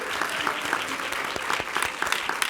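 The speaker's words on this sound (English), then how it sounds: "Let's give them another round of applause and get our group picture." A crowd at a superintendent's scholars celebration gives the 10th graders a steady, full round of applause, dense clapping that holds evenly throughout with a few murmured voices underneath.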